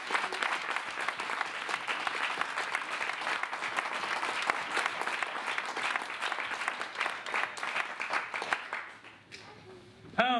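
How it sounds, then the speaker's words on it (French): A theatre audience applauds actor Denis Hervier, sustained dense clapping that thins and fades near the end, with a little murmuring crowd noise mixed in. "Et je vous demande d'applaudir"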